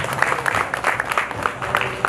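Audience applause at a live event, steady dense clapping from a nearby crowd, continuous and moderately loud throughout.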